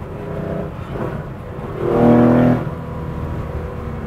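A Porsche 911 ST engine droning from inside the car while driving, rising briefly into a stronger rev partway through before settling back to a steady hum, with no talk.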